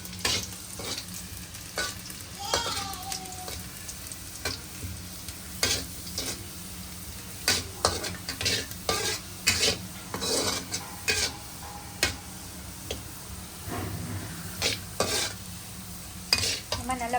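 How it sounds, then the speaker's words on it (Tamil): Garlic sautéing in hot oil in a pan for Singapore mehun noodles, a steady sizzle running throughout with repeated sharp scrapes and clinks of a spatula stirring, close and fairly loud, with no talking. "நீங்கள் நம்ம பூண்டை போட்டு நல்லா வாசம் வர வரைக்கும் கொஞ்சம் வதக்கிக்கணும்."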